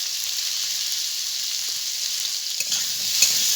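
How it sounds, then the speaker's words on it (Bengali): Cut potatoes frying in hot oil left from frying fish, seasoned with salt and turmeric; a steady close sizzle hisses throughout, with a few stirring clatters toward the end and no talk. "আলুটাকেও ভেজে নেব।"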